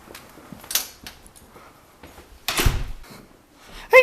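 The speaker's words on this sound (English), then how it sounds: "And I hate this door handle because it never works." A stiff car door handle, on a Subaru, is rattled and worked to get the door open. Several loud clunks and clacks come in separate bursts with quiet gaps between them, ending in a sharp final click.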